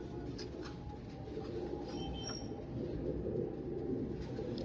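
Imam Din breed pigeons coo softly in low, murmuring repeated calls over a constant faint background hum, with no one speaking.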